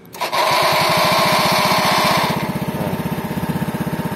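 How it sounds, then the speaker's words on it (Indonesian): A Honda C70 motorcycle engine fired by a remote starter catches abruptly, then settles into a loud, close, fast-pulsing single-cylinder idle. "Fitur tambahannya menggunakan remote starter."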